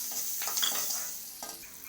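Curry leaves and small shallots go into hot tempering oil for a long beans sabji, giving a soft, steady sizzle with light stirring scrapes close by.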